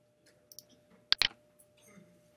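A computer mouse gives a few soft, sparse clicks, with a sharper double click near the middle, in a quiet room.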